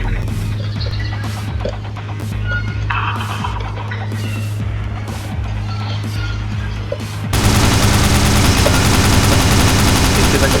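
Gunfire in a warplane combat game arrives as rapid repeated bursts of shots over a steady engine drone, then breaks into a dense, loud, continuous roar of fire near the end.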